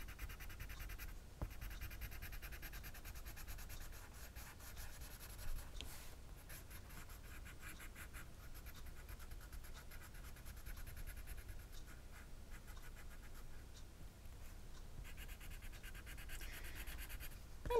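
Colored pencil being blended over yellow and orange on paper with a colorless blender pencil, a faint continuous scratchy rubbing that runs steadily throughout.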